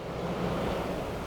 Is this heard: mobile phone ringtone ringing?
no